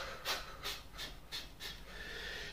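A chiropractic patient exhales deeply several times, breathy puffs of air coming in a slow, even rhythm about every third of a second, close and fairly loud, followed by a longer, steadier outbreath.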